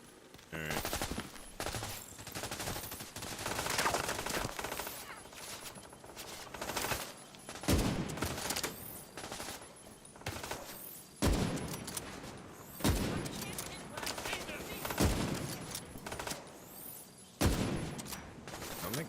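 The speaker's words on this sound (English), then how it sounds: "I'm like shooting the backpack. Why isn't it blowing up?" Video game gunfire fills the stretch as repeated bursts of rapid shots aimed at a backpack, with brief pauses between volleys and a voice occasionally speaking over the shooting.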